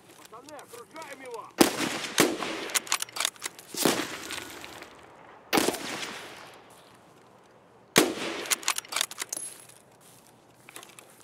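Four sharp, loud gunshots ring out from Escape from Tarkov on the Woods map. They are spaced a couple of seconds apart, and each crack trails into a rolling echo, with quieter rustling between them.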